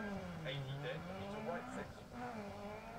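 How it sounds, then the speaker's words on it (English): Rally car engine in the Dirt Rally video game drones and shifts pitch in a continuous rising and falling hum, with faint talk over the top. "That's a nice engine sound."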